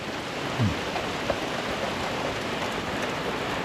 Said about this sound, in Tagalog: Ayan, ulan na. So umuulan.